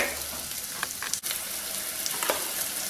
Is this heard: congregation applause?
no